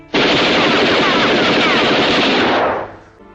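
Loud, sustained automatic gunfire in a dramatized reenactment of a general's killing, a dense unbroken burst of rapid shots lasting nearly three seconds before cutting off and fading.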